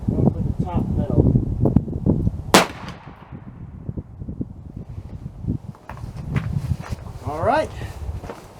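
A CVA Optima V2 .50 caliber muzzleloader fires a single sharp, loud shot outdoors, its boom trailing off, with someone talking before and after amid wind noise.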